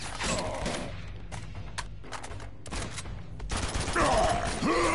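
Rapid bursts of gunfire from the video game Uncharted 2: Among Thieves, loud and close, in clustered volleys with brief gaps, building into heavier fire toward the end.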